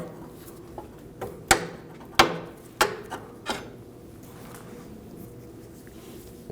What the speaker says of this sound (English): You can use a punch or an awl to line up the bolt hole.